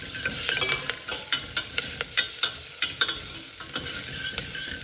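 Onion and curry leaves frying in hot oil for a spinach and cucumber dal, a loud, steady sizzle and crackle with repeated scraping stirs from a spoon against the pan, no voices.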